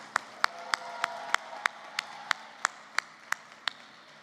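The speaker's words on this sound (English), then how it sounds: "Let's give all of our honor graduates a round of applause." A single pair of hands claps sharply at a steady, even rhythm, about a dozen crisp, close claps at a university commencement for honor graduates, with a quiet hall hum underneath.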